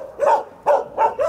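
A dog barks four times in quick succession, close and loud, the yaps evenly spaced.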